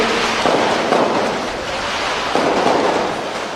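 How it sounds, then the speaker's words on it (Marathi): Victory firecrackers go off at a political rally in Nanded, a dense, continuous roar of crackling bursts that swells at about half a second and again near two and a half seconds, loud and close with no speech. "हे विजयाचे फटाके आज केला होते"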